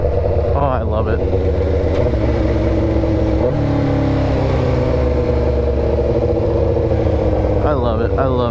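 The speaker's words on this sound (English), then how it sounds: "With this exhaust, it just sounds so crisp and clean." A motorcycle with an aftermarket exhaust revs hard and crisp, close by, with pitch rising and dropping through downshifts; a voice is heard speaking over it.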